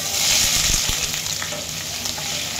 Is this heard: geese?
no